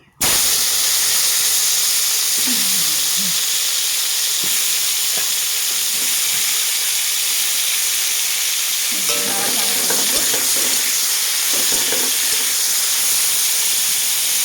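Bitter gourd (karela) fries in oil in a hot pan, giving a loud, steady sizzle and hiss throughout. A few clinks and stirring sounds break in near the end.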